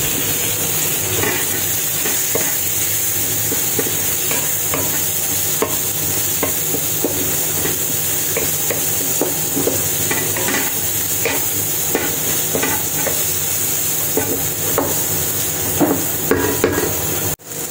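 Beef sizzling with onions in a hot pan for Filipino beefsteak, a steady loud frying hiss with scattered spatula scrapes and taps, close and continuous throughout.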